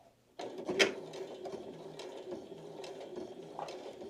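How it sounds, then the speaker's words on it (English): A sewing machine starts up and stitches a few forward stitches into a cloth napkin, a close, steady mechanical whirring and clatter with a sharp click near the start. "So we're going to sew a few stitches forward,"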